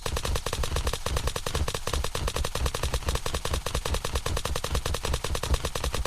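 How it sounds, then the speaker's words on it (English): A gun in Unturned fires at a tree in rapid automatic bursts, loud continuous shots repeating at a fast, steady rhythm. "yes, I'm using a gun to chop down a tree"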